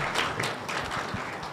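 Applause from the audience at an intergovernmental forum on agriculture, a steady wash of many hands clapping at moderate distance, carrying on without a break.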